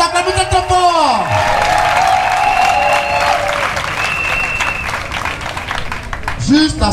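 A large outdoor crowd applauds and cheers loudly for the women's section president, Victorine Thiebresson, at a party ceremony in Aboisso, with a voice speaking over the steady clapping before it fades.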